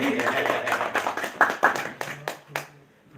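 An audience at a live program with a singer claps in irregular bursts that thin out toward the end, mixed with some voices.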